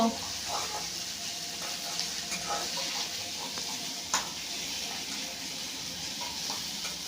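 Chicken kosa frying in a pan with ginger-garlic paste, heard as a steady low sizzle with soft stirring scrapes and occasional clinks of a utensil against the pan, while a voice talks over it.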